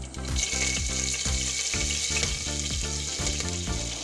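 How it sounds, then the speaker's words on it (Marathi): Mustard seeds tempering in hot cooking oil inside a pressure cooker give a loud, steady sizzle with a faint rhythmic pulsing, close by, with no talking. "ह्या तेलामध्ये राईची फोडणी द्या"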